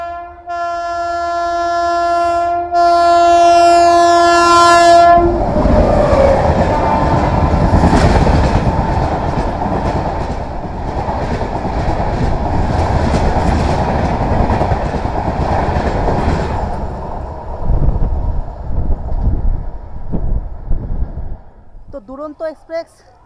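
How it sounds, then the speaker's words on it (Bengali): A Duronto Express passing Radhamohanpur station opens with a loud multi-tone horn blast, then the train roars through close by with continuous rail clatter and wheel rumble that gradually fades toward the end. "এখন আসবে হচ্ছে ডাউন দুরন্ত এক্সপ্রেস, মানে SMBT বেঙ্গালুরু হাওড়া দুরন্ত বা ব্যাঙ্গালোর দুরন্ত"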